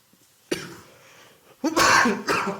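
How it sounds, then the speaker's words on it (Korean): Three harsh coughs in a row, close and loud, the last two coming quickly together after a short pause. "저는 말을 많이 하면 자꾸 기침이 죄송합니다."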